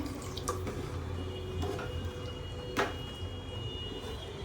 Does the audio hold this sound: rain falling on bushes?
no